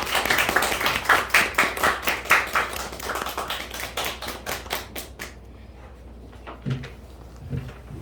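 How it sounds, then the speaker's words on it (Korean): Clapping at a church gathering to welcome a pastor as he comes forward: distinct, fairly sparse claps that taper off after about five seconds, leaving a quiet room with a couple of soft thumps. "나오실 때 큰 박수로 환영하겠습니다."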